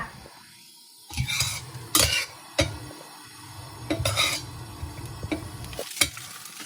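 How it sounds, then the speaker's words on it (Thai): Spices for a frog curry with vegetables are stir-fried in a hot pan, bursts of loud sizzling and scraping of a utensil against the metal coming in uneven strokes, close up, with no talking. "แล้วเราจะใส่เครื่องค่ะ แล้วเราจะมาคั่วกันค่ะ"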